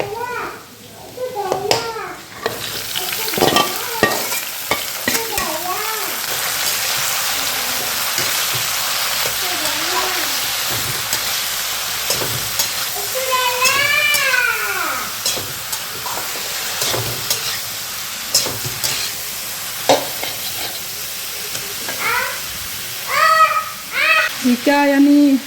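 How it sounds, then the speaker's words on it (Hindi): Ginger and garlic sizzle and get stirred in a pan until brown, a low frying hiss beneath lively child chatter and a voice that carry on through most of the stretch. "अदरक लहसुन को थोड़ा ब्राउन होने देंगे यहाँ पर"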